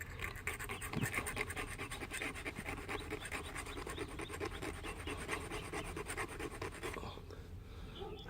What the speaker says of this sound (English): Let's see if I can file him real quick.